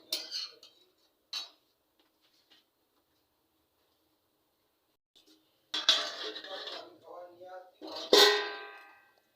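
A metal lid set onto a cooking pot of simmering vegetable curry on a home stove, two sharp close clinks with a brief rattle, amid quiet kitchen pauses.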